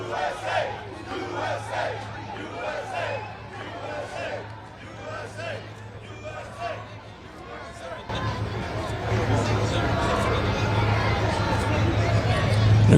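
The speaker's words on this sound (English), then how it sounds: "Obviously, a very loud crowd here with a lot of people across" A large, loud crowd shouts and cheers outdoors next to a Harlem bodega during a presidential visit, a dense roar that swells and grows stronger toward the end.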